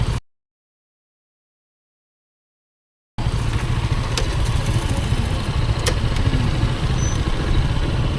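A motorcycle engine idling at Gulod, a steady, fairly close low chugging that starts after a brief burst and a few seconds of silence, with no talk over it.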